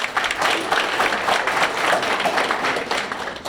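Audience applause at a school pathway celebration ceremony, a steady burst of many hands clapping together, fairly loud and close, with little talk over it.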